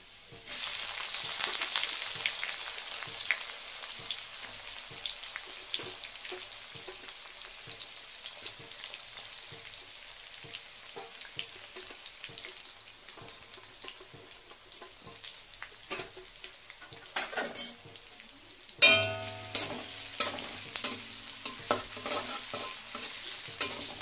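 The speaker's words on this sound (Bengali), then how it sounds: "পেঁয়াজটা আমার অনেকটাই ভাজা হয়ে গেছে।" Chopped onions fry with browned garlic in hot oil, a continuous sizzle with regular scraping strokes as they are stirred, growing louder and brighter near the end.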